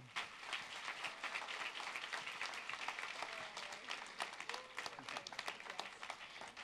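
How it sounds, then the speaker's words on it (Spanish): An audience at a conference claps together in a sustained round of applause that stays fairly even throughout, heard from within the room with no speech on top. "Un aplauso para que sienta el cariño."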